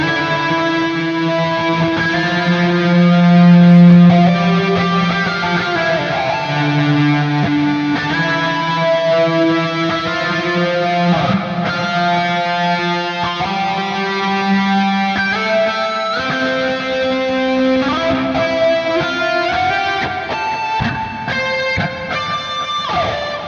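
An electric guitar played through a Neural DSP Archetype: Petrucci amp simulator with chorus, delay and reverb rings out in loud, sustained, shimmering chords and melodic lines that flow continuously with a wide ambient wash and no talking.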